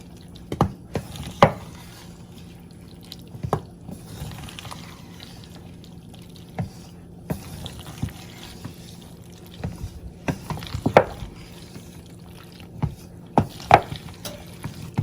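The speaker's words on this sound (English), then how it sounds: "I'm gonna add in my sauce. And mix." Macaroni being mixed with a poured sauce for a cheesy Caribbean macaroni pie: soft wet squelches and stirring scrapes, with scattered sharper clinks of a utensil against the dish, close and fairly quiet with no talking.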